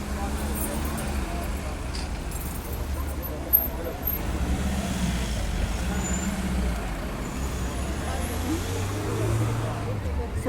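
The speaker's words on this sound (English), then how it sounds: "It's quite noisy. This is the main Cricklewood Lane." Busy main-road traffic on Cricklewood Lane in London at night, a steady roar of cars, trucks and buses with a brief air-brake hiss, while someone talks over it.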